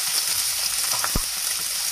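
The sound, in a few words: onions frying in hot oil in a kadhai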